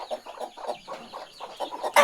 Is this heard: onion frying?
no